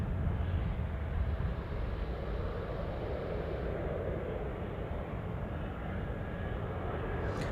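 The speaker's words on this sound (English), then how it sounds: "There goes the E175 off to Portland." An Embraer E175 airliner departing Anchorage airport, a steady broad jet roar heard from a distance, fairly faint and even throughout, with no voices over it.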